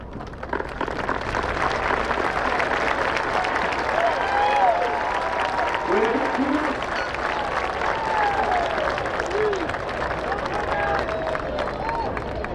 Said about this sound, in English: If we can give each of them a round of applause